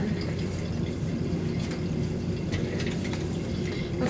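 Water poured from a measuring vessel into a lab mixture of 1-butanol and acetic acid, a soft continuous trickling and faint bubbling, quiet and close, with scattered small drips and no talking.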